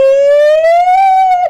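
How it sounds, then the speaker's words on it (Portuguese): A DJ's siren sound effect blares loud and close as one sustained electronic wail that glides slowly upward, then cuts off abruptly, with no talking over it. "Cadê a sirene, DJ Careca?"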